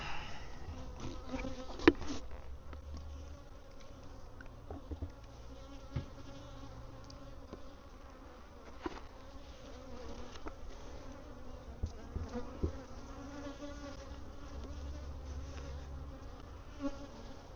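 A steady, droning buzz of many honey bees fills the whole stretch during honey pulling, with occasional closer insects passing by over a constant hum.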